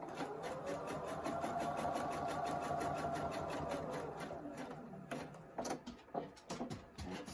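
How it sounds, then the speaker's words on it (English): A sewing machine runs steadily while stitching close to the edge of a fabric Valentine's postcard, a fast, even mechanical whir that breaks into a few short bursts and pauses near the end. "I'm going to sew very close to the edge so I can get it to roll over to the front."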